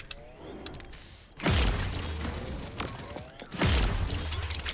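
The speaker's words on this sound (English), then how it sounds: "You can hear Strix cloak very easy" Strix's cloaking ability in the shooter game Paladins, two loud whooshing mechanical bursts with a grinding, ratcheting texture, each swelling and then sustaining.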